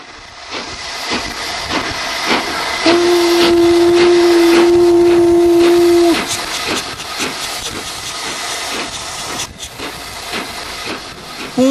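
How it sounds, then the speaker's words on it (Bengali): A steam locomotive train pulling into a station sounds a loud, steady whistle for about three seconds over constant heavy hissing and rumbling, with a brief second toot at the end. "ঝিকঝিক শব্দে হুইসেল বাজিয়ে একটি বাষ্পচালিত ইঞ্জিন থেকে একরাশ কুণ্ডলি পাকানো ধোঁয়া ছাড়তে ছাড়তে একটি ট্রেন"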